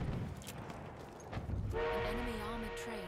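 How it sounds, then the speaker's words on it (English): An enemy armored train arrives in the video game Battlefield 1, low rumbling giving way to a sustained, wavering train horn blast that holds on over the last second and a half amid game noise. "An enemy armored train has arrived."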